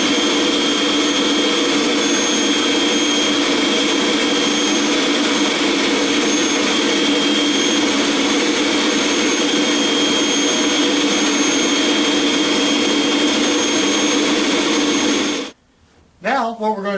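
A Kirby vacuum fitted with its shampoo attachment sprays dry shampoo foam onto upholstery, giving a loud, steady motor whine and rushing airflow that runs unbroken before cutting off abruptly near the end.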